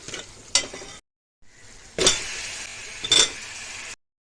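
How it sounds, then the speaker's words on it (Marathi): Potato pieces fry in hot oil with garam masala, chilli and salt, bursts of crackling sizzle and stirring scrapes broken by short silent gaps. "बटाट्याच्या फोडी तेलात आपण फ्राय करून घेऊया"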